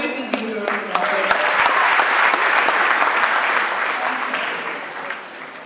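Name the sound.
audience applause for a lecture panelist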